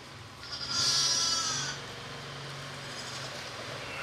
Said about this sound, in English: we're just going to get some sheep from the little lamb pens